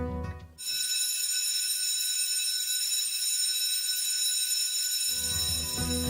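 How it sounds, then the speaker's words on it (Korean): A building fire alarm rings with a loud, unbroken electronic bell tone that holds steady for several seconds, then gives way as a lower hum returns. "바로 이 비상경보장치,"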